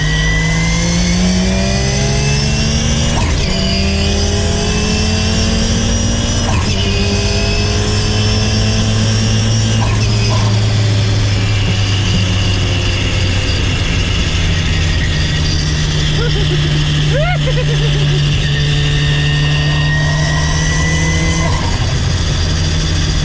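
Ford Escort Cosworth engine revving hard and climbing through gears, with loud harmonic sweeps rising then dropping at each of several gear changes, close and continuous with no talk over it.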